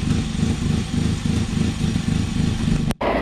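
An engine lubricated with Bertolli olive oil in place of its regular oil runs at a steady, loud idle with an even low chugging pulse, then cuts off abruptly near the end.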